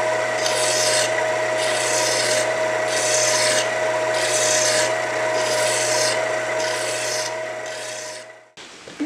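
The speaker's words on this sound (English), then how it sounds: "Using a little lathe to finish cleaning these bushings up, or these spacers, whatever you want to call them, repair rings." A small metal lathe turns bushings (spacers, repair rings), giving a steady rasping scrape that comes in regular pulses with a constant motor hum beneath, then stops abruptly near the end.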